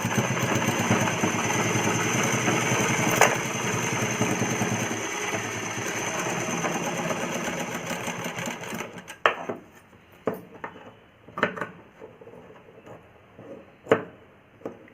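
A sewing machine stitching an umbrella frock for a small child runs in a steady, buzzing whir for several seconds, then switches to short stop-start bursts of stitching with quiet gaps between them.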